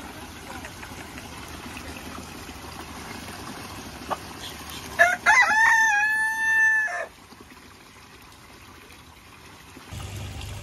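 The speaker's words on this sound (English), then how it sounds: "That's the little hen, the native bird of the Everglades." A hen-like bird in the Florida Everglades giving a loud, close series of crowing, clucking calls that last about two seconds, set against quiet outdoor ambience with a faint trickle.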